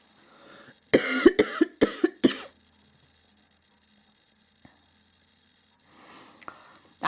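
A person coughs in a quick burst of about five or six harsh, close coughs, followed by quiet and a faint rustle near the end.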